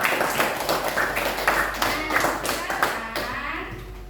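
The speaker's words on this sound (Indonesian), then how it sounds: "tepuk tangan buat mereka yang sudah berani maju ke depan" A classroom of students claps for classmates who came forward, a loose burst of hand claps close by that thins out toward the end, with children's voices mixed in.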